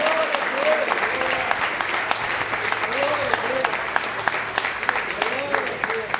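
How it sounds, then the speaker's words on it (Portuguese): A church congregation at a Sunday miracle service applauding, a sharp crackle of many hands clapping while a voice sings or speaks over it, with an underlying musical tone. "Aplaude"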